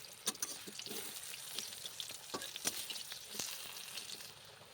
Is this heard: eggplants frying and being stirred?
yes